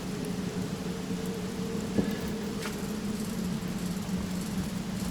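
Rain conjured by a spell in the video game Divinity: Original Sin falls as a faint, steady patter under a low hum, with one soft knock partway through.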